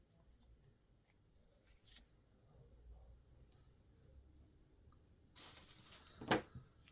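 Scissors snip through a ribbon spool card close up, a short crisp cutting burst after quiet handling and rustling of paper.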